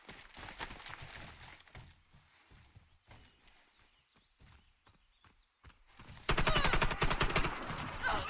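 AK-47 Gold rifle fire in the shooter game Warface: a loud, dense burst of rapid automatic shots near the end, following quieter scattered game sounds and footsteps.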